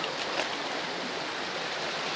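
River water in Ilog Bulbok, Alfonso, Cavite flows in a steady, even rush, with no voices present.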